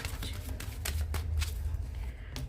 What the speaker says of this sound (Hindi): लास्ट शफल, मेरे व्यूअर्स के पर्सन की करंट फीलिंग्स लेकर।